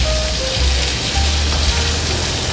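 Fish frying in oil in a shaken pan: a dense, steady sizzling crackle up close, with a low rumbling underneath and brief scraping tones.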